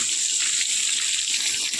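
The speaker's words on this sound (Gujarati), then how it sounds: "અત્યારે પાણી ચાલુ કર્યું છે" Water gushes steadily from a pipe in a continuous, loud hissing rush that stays even and close throughout.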